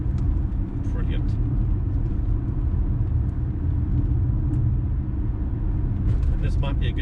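Howdy A8 car running on the drive, a steady low engine rumble held close and even throughout, with people chatting over it.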